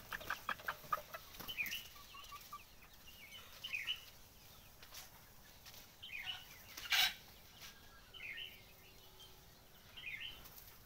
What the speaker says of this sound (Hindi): मुर्गियां बैठी हैं, किस तरह सो रही हैं ये सब देखिए दोस्तों।